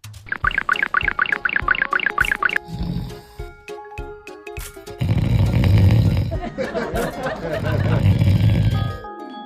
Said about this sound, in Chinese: 这就是我正常的打鼾的一个状态啊